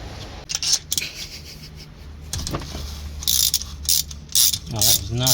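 A ratchet with a deep well socket works a 19mm banjo bolt on a Subaru CVT, giving bursts of rapid metallic clicking close by and a few scraping tool noises.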